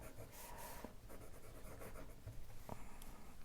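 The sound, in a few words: fountain pen with double broad nib writing on paper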